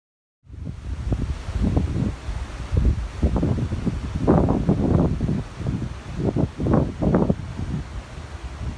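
Gusty wind on the Appalachian Trail in Pennsylvania buffets the microphone in repeated low rumbling bursts, rising and falling in strength, loud and close, with no voices.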